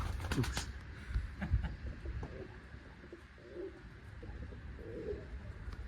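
Soft coos from tumbler pigeons rise a few times at low volume amid a busy background of shuffling, flapping and faint rustling in a small coop.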